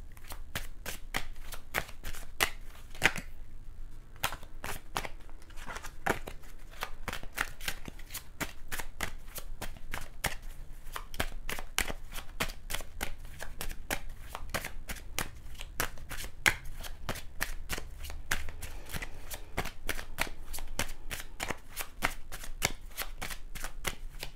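Tarot cards being shuffled at close range, a steady run of crisp riffling flicks repeating rapidly for the whole stretch, with no talking over it.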